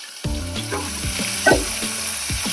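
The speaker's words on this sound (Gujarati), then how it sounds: "બે ત્રણ પીસ સરગો નાખશું અને એક ટામેટું નાખશું અને આ બધાને આપણે ચડવા દઈશું" Drumstick pieces and a tomato cooking in a hot pan with oil, a loud, close, continuous sizzle with crackling pops and a few stirring scrapes; no talking.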